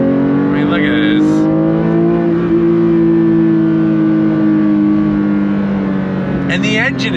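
A 2024 Porsche 911 S/T with a six-speed manual under throttle in third gear, a steady loud engine drone holding a rising then level pitch throughout, with someone talking over it.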